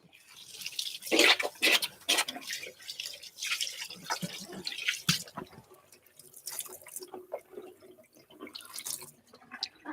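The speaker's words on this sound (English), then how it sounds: "let me just have a bit of water" Water is poured or sipped during a university mathematics lecture, a close sequence of small splashes, drips and gulps broken by short clatters, fairly quiet in a room with faint talk around it.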